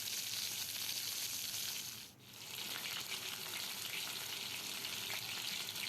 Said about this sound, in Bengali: মাছ ভাজা আমার হয়ে গেছে।